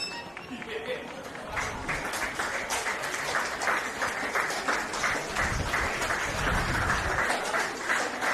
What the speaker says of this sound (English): Generous round of applause there from the crowd